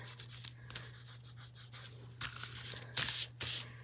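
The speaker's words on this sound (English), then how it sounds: "I'm going to rub these a little extra so that those diamonds will pop out a little more." Diamond embellishments on a purple craft card being rubbed by hand, a soft, close-up scratchy friction in short repeated strokes, quiet over a low steady hum.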